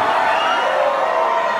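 A live concert crowd cheers and roars in a dense, continuous wash of voices, loud and sustained across the whole moment without distinct words.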